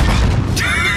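A grenade exploding in the Modern Warfare video game, producing a loud, short boom with a dense burst of crackling debris filling the whole brief moment.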